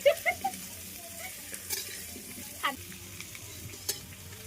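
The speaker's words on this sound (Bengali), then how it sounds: "এই যে আমি আলুটা ভেজে নিলাম" Potatoes frying in a pan over a clay stove at an outdoor New Year picnic, with a steady soft sizzle broken by a few sharp scraping clinks of stirring, heard close up without talk.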